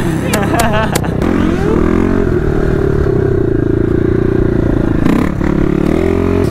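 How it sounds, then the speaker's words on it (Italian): A motorcycle engine warms up and rides off, its steady low exhaust drone rising and falling with revs, with brief clattering and a voice at the start. "scaldare un po' la moto"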